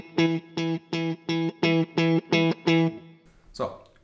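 A distorted electric guitar boosted by six decibels on a Fractal Audio graphic EQ, playing eight evenly spaced, sustained chord stabs in a steady rhythm with a chorus-like shimmer, then a brief scratchy noise at the end.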